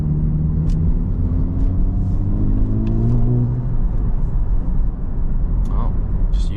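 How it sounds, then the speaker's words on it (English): A Honda Civic Type R FL5 with a modified exhaust drones steadily while driving, its deep engine and exhaust note climbing as the revs rise, loud and close throughout. "You only hear the actual engine and exhaust, which is nice."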